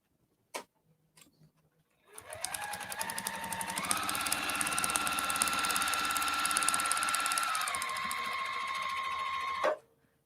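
A sewing machine stitches with all-purpose polyester thread while sewing a witch's hat. After a few light clicks it runs at a steady, close, whirring pace for about seven seconds, with a brief shift in speed partway through, then stops.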